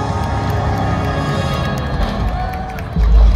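A concert crowd claps and cheers during an encore at the Busan Night Race, with a dense wash of noise over a low musical rumble that swells louder near the end.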